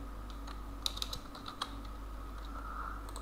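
Keys clatter on a computer keyboard as a name is typed into an online application form, a quick run of light, close taps over a steady low hum.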